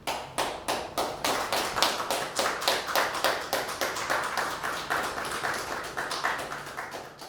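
An audience at a commemoration gathering claps in a steady, rhythmic stream of sharp, close hand claps that keeps going for several seconds without voices.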